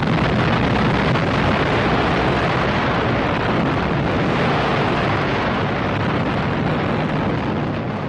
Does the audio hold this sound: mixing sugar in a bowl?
no